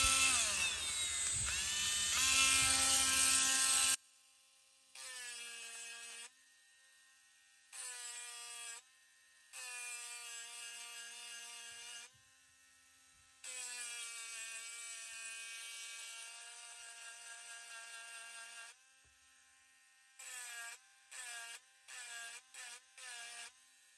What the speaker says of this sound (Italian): proviamo ad incidere da questa parte qualcosa con questa fresetta diamantata.